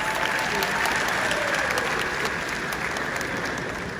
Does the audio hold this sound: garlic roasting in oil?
no